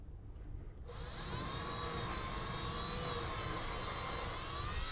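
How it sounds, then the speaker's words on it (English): A drill with a 3/16 bit bores into a commercial wood door, spinning up after a second into a high, steady whine that holds for several seconds, faint and alone. "we're going to take a 3/16 bit, a nice clean new one. We're going to run it in this"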